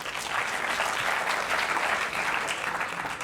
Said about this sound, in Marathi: क्या बात आहे, जोरदार टाळ्या.